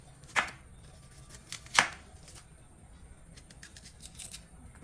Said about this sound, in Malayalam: അപ്പോൾ നമുക്കിത് റൗണ്ടിൽ അരിഞ്ഞെടുക്കാം.